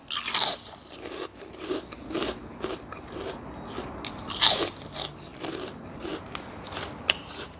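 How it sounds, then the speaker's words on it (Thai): Crisp crunching bites of fresh vegetables eaten alongside small rice noodle pork nam tok soup with fried garlic, repeated close-up crunches in an uneven rhythm, no talking. "ผักกรอบๆ"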